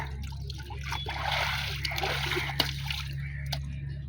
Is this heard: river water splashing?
yes